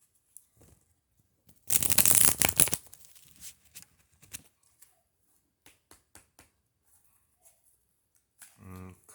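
One quick riffle shuffle of a card deck, a dense fluttering burst lasting about a second, then scattered soft taps and handling clicks in a quiet room.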